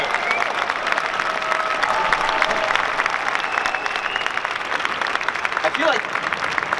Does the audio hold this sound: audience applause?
yes